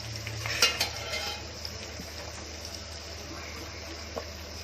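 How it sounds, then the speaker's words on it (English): Chopped onions sautéing in a pan for a soya chilli dish, a low steady sizzle with a cluster of spoon and pan clatter early on and a few faint taps afterward. "We'll put all the onions. Again we'll saute."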